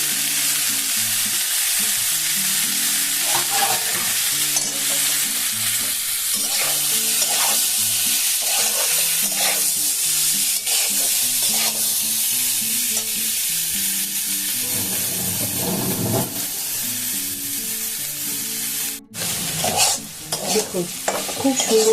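Pieces of papaya are stir-fried in a pan for a papaya chechki dish, giving a continuous close sizzle with repeated scraping stirs, and the frying grows louder and busier toward the end.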